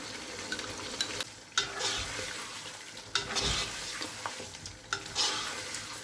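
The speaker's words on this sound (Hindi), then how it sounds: "अब कौरमे में फ्राई की हुई प्याज का जो पेस्ट बनाया है वो डाल देंगे।" Fried onion paste goes into a pot of korma and sizzles steadily while a spoon stirs and scrapes through it in repeated strokes, close and continuous with no talking.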